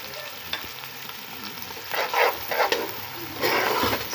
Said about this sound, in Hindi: इसमें जा रहा है लहसुन अदरक का पेस्ट